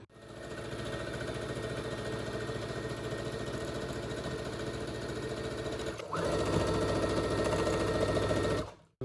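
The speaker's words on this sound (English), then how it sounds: "Is it on? I'm going to set it to quite a tight stitch." Sewing machine running a tight stitch, a fast steady mechanical whirring and clatter close by that pauses briefly near six seconds, then resumes slightly louder before stopping.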